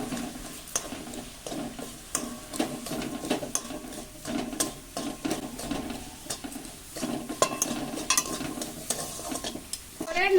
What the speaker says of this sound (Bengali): অল্প একটু নারকেল কুড়া খুব ভালো করে নেড়ে নেবো